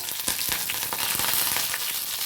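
Curry leaves and garlic sizzling in hot oil, a loud, dense, continuous crackle and spatter close up, with faint stirring knocks and no voices.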